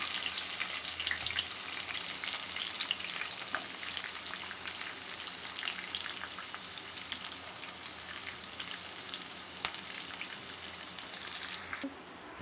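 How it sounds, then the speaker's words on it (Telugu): Onion and green chillies frying in a pan for beetroot curry, a steady, dense sizzle with fine crackles running unbroken throughout, fairly close. "ఆనియన్ పచ్చిమిర్చి వేసుకున్నాక అవి మంచిగా గోలాలండి"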